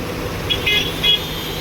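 A loaded truck on a hot daytime road sounds its horn in three short, thin honks, fairly faint and set over a steady rumble of traffic and engine noise.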